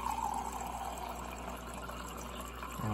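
Water running steadily from a refrigerator dispenser into the water tank of a Krups 872-42 Bravo Plus espresso maker, a continuous close-up trickle and fill that holds for about three seconds.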